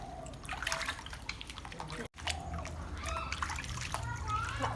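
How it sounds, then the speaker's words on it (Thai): Cassava roots being washed by hand in a basin of water, with splashing, dripping and sloshing throughout, close by and moderately loud, broken by a brief silent gap. "ล้างมันกันค่ะ"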